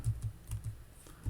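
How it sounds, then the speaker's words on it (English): A few soft, quiet keystrokes on a computer keyboard while typing a MAX function into an Excel 2016 spreadsheet, with taps spaced irregularly over a moment. "So in Q8, I'm going to type max."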